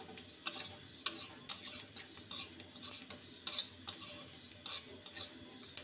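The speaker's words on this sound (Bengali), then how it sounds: "মশলাটাকে ভালো করে ভেজে নেব" Whole spices are dry-roasted in a pan for a pumpkin and potato chhakka, with a ladle scraping and tapping the metal in a steady rhythm, soft and close, no voices.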